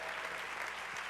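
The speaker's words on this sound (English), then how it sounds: "please give a round of applause to the young people who make Green for All work" Audience applause at the Global Climate Action Summit in San Francisco, honoring young people from Green for All: steady, dense clapping from a large crowd that fills the whole moment at an even level.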